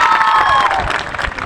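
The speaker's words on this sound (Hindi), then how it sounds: "पर ये तभी आएंगे जब बजेगी आपकी तालियां ढेर सारी" Crowd at an annual college prize distribution function in Rewalsar bursts into loud cheering and applause, with shouts and whistles over a dense wash of clapping.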